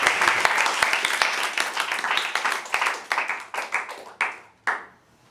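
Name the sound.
round of applause for debate speaker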